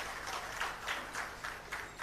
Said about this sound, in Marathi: आदरणीय दीपकभाईंसाठी आपण जरा एकदा पुन्हा जोरदार टाळ्या वाजवूया